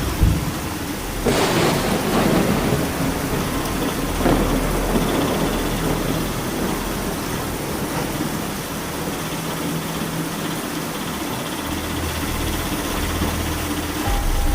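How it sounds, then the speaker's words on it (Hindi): Steady heavy rain pours throughout, heard from inside an auto rickshaw, with a loud thunder crack early on and lower rumbles rolling beneath the downpour. "अब पूरे ऑटो में सिर्फ बारिश की आवाज थी"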